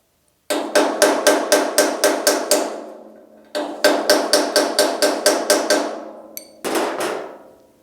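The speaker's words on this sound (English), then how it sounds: "I got my trusty piece of rebar here. I've ground flat on one end, and I'm just going to tap right here" A hammer taps a flat-ground piece of rebar to pull a dent from a GTO restomod body, sharp metallic strikes in fast even series of about eight, ringing close and loud, with brief pauses between runs.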